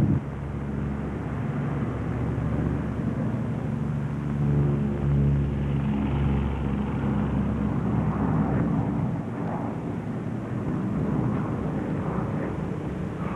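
A P-38 twin-engine fighter flies with one engine quit, running on its remaining engine: a steady, loud droning roar with a low rumble, continuous throughout with slight swells in level.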